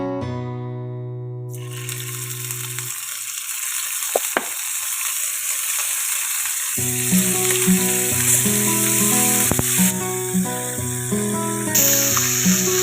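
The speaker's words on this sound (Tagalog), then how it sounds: "magluluto muna tayo ng ating shrimp. Iluluto muna natin siya, ipa-fry." Shrimp frying in a pan, a steady bright sizzle that runs throughout, with pan and utensil clatter, and tonal music playing over it at the start and again in the second half.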